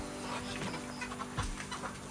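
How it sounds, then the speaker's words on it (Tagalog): A large flock of chickens on a poultry farm clucks continuously in a dense, steady chorus under a constant background hum. "Ang dami yung manok dito."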